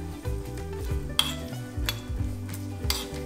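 Hot ghee tempered with hing is stirred into a pot of mung dal curry, giving a steady close sizzle with scraping stirs and a few sharp metallic clinks of utensils against the pan.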